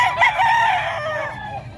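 Chickens crow and cluck loudly and close together among the crowd of birds at a busy livestock market, forming a continuous overlapping chorus.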